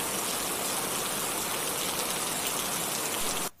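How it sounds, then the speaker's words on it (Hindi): Heavy monsoon rain pours down steadily and close by, a dense continuous hiss of water striking surfaces with no pauses, cutting off abruptly at the end. "तो बारिश आई हुई थी और बहुत मज़े का सीन था जिसको मैंने इस तरह से कैप्चर कर लिया था"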